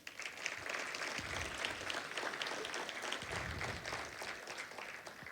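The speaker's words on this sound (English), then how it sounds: "Please give yourselves a round of applause" A crowd applauds at a youth awards celebration, sustained clapping from many hands with crisp individual claps standing out, steady and fairly distant throughout.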